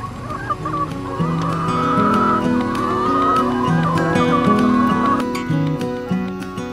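Hens ranging on a mobile pasture farm, foraging on grass outdoors; loud, steady honking and clucking fowl calls overlap continuously with layered pitched cries, many birds close by and no talk.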